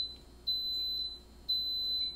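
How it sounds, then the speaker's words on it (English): Instant Pot pressure cooker beeping after cooking black beans: two sharp, high electronic beeps about a second apart, thin and moderately quiet in a still kitchen. "it'll beep three times"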